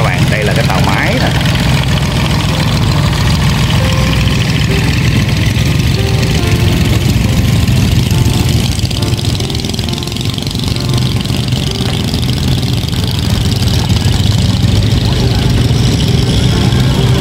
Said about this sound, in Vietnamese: đây là cái tàu máy nè